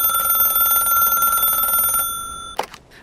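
A telephone rings on a new high-tech phone system, a bright electronic trill holding steady for about two seconds before cutting off, followed by a couple of faint clicks.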